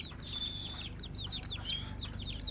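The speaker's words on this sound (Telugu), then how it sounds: "ఏ కోళ్ళు కూడా వచ్చేస్తున్నాయి" Chickens cluck and chirp repeatedly at an outdoor tribal village meal in Araku, a busy cluster of short calls close by over a low background hum, with no talk.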